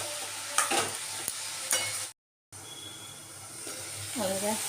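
Snake gourd with turmeric is stirred in a frying pan, with scraping strokes over a steady sizzle. A short dropout falls in the middle, and a faint voice is heard near the end.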